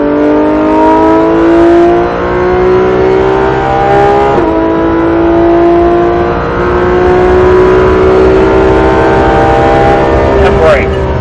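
A Porsche GT3 RS engine revs as the driver accelerates, a loud, steady rising drone with strong harmonics that holds for several seconds, with a brief dip and a short sharp burst near the end.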